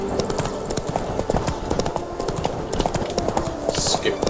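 Horse hoofbeats at a gallop in The Witcher 3 video game, a steady rapid clip-clop running throughout beneath someone talking over the gameplay.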